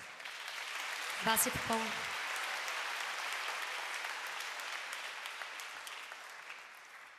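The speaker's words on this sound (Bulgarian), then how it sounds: "Аплодисменти за Волен Милчев." At a symphony orchestra concert, a hall full of people applauds a performer as a steady, fairly distant wash of clapping, and a voice speaks briefly over it near the start.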